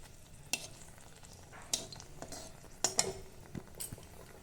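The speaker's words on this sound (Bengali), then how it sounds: "আমার তেলটা গরম হয়ে গিয়েছে, আমি এখানে একটা শুকনো লঙ্কা দিয়ে দিচ্ছি" Dried red chili drops into hot oil and sizzles softly, with a few sharp clinks and scrapes of a utensil against the pan punctuating the quiet frying.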